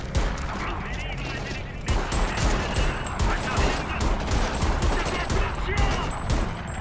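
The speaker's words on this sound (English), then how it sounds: "Okay, who's shooting me?" Gunfire from the video game Homefront The Revolution comes in rapid, dense bursts of shots and impacts that run loud and nearly continuous, with a player talking over the shooting.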